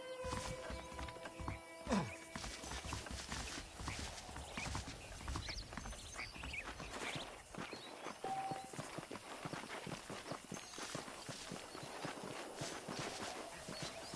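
Steady horse hoofbeats clip-clop in the video game Red Dead Redemption under a dense, busy ambient bed, with a brief whinny-like cue and continuous background texture throughout.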